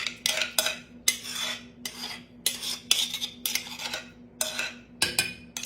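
Pumpkin being worked into a flour mixture in a bowl for pumpkin swirl bread, a spoon or utensil scraping and knocking against the bowl in repeated rhythmic strokes, close and clear with no talking.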